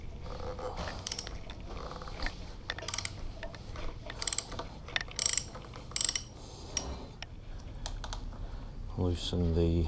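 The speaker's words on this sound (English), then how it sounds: "Loosening the nuts." Nuts being loosened on the forks of a Suzuki DR650 motorcycle with a ratchet, giving rapid clicking and ratcheting bursts with metallic clinks close up, under a steady low background.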